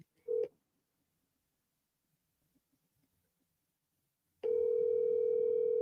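A phone call goes to voicemail: one short tone sounds, a long silence follows, and then a steady, clear electronic tone holds loud until the end.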